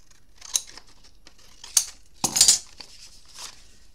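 Several crisp scissor snips cut through material for a sunflower art craft, with short separate cuts and a longer double snip near the middle, close and fairly loud with no voices.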